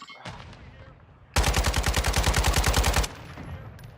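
Automatic gunfire in the video game Modern Warfare III, a loud close burst of rapid shots lasting nearly two seconds, preceded and followed by quieter game ambience and a single earlier shot.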